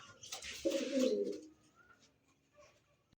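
A dun-coloured Lahori pigeon coos in one low, rolling burst lasting about a second, close and fairly clear, followed by quieter faint background sounds.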